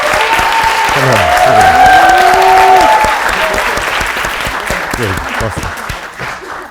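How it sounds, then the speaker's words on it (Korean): Audience at a gathering applauds loudly to welcome a speaker, a dense, steady clatter of many hands that fades gradually over several seconds while someone speaks over it. "박수로 환영해주세요."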